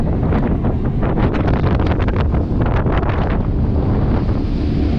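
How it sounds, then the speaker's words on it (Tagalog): Strong, steady wind roars and buffets the microphone continuously on the upper deck of a ship near Puerto Galera, Oriental Mindoro, with a faint rushing of water beneath it. "Lakas na ng hangin dito sa taas."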